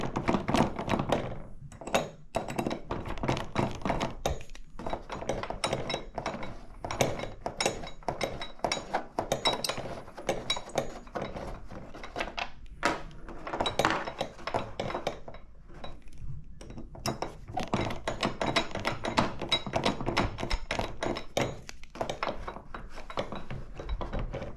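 Screws come out of a TV wall bracket and the metal bracket is taken off by hand, giving a steady run of close thunks, knocks and metallic clinks with no talking.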